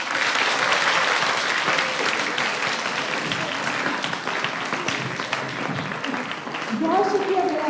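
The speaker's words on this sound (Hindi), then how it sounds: "आपकी तालियां बताएंगी।" An audience applauds steadily at a literary festival session in Lahore, a dense wash of clapping that holds for several seconds before a voice begins speaking over its tail.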